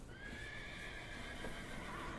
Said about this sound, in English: You can hear the horse sounds in the background.